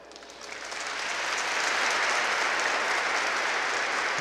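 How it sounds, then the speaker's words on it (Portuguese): A congregation standing at Mass breaks into applause, the clapping swelling over the first second and a half into a dense, steady wash that carries on evenly to the end, with no voices heard. "Merecem o nosso aplauso."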